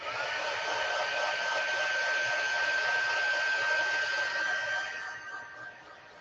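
A hair dryer blows steadily on a mixed media artwork, a loud, even whooshing drone with a faint whine that softens near the end.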